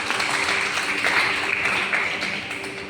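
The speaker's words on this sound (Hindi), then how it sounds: "तालियां हो जाए ब्रदर के लिए।" A church congregation gives a brother a round of applause, a dense wash of many hands clapping that holds steady and then begins to fade.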